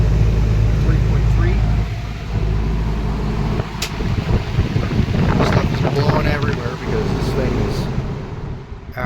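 A 1958 Sears Homart push-button window fan runs at full power in a small space, a loud, steady, rushing roar of air that blows hard against the microphone.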